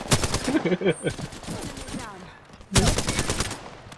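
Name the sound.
gunfire from a video game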